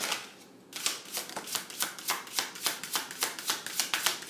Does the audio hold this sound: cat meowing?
no